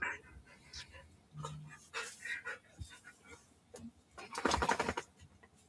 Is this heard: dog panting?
yes